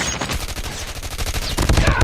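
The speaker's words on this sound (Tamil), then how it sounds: "நம்மளை சுட்டான்" Dense, rapid gunfire from the Call of Duty video game, with shots crackling continuously and loudly for the whole stretch and growing heavier toward the end.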